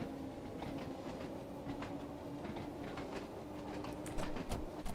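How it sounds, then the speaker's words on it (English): Isle of Wight 1992 stock train in Train Sim World 2 rolls along with a steady low motor hum, rail rumble and irregular clicking from the track, heard alone without talk. "The 1992 stock has received its first new motors, and they sound exactly like the S."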